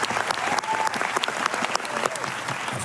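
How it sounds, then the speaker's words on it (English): Audience applause at an event, a brisk burst of many hands clapping with distinct sharp claps and a few voices and whistles mixed in. "Please applause, thank you."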